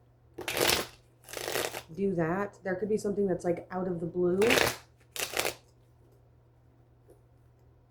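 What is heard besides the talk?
tarot cards being shuffled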